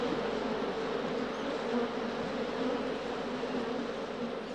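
Steady, dense buzzing of many feral honeybees, continuous and fairly close, with no pauses or voices.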